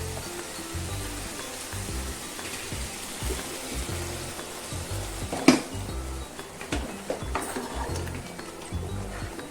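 Hot water poured into a pot of mutton and pumpkin curry makes a steady, close rushing splash with a sharper gurgle midway, and no voices join it.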